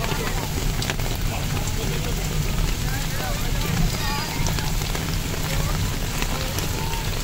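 Heavy storm rain pours down in a dense, steady hiss of drops on surfaces, with gusty rumble, while people talk over the downpour.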